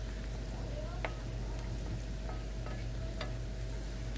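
Garlic sautéing in melted butter for garlic shrimp, a steady low sizzle with a few faint scrapes and clicks of a utensil stirring through the pan, all at an even, quiet level.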